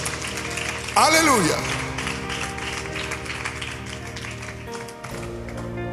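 A congregation claps and cheers in a large church service room, with a preacher calling out over sustained music; the applause stays steady and moderately loud.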